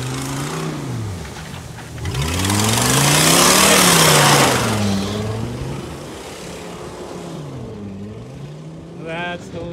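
Ford F250 pickup truck engine revving hard through a burnout, loud sustained roar rising and falling in pitch with tire noise swelling in the middle, close by.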